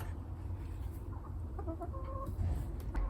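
Four hens clucking softly in a small town garden run of about ten by fifteen feet, short murmuring calls rising now and then over a steady outdoor background hum.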